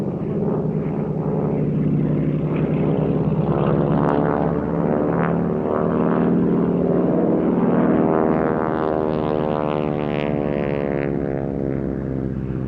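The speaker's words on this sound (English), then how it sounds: "the distinctive rasp from that aeroplane, it's actually from the propeller" A propeller aircraft roars past at an airshow at Duxford, its rasping propeller drone rising as it approaches then shifting in pitch and fading as it moves away.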